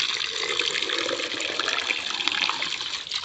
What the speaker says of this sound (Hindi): ये पानी निकल गया